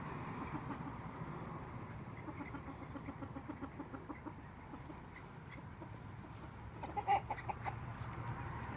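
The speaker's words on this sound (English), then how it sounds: "Morning, chickens." Chickens cluck steadily in a repeating pattern over a constant low outdoor rumble, with one louder squawk near the end.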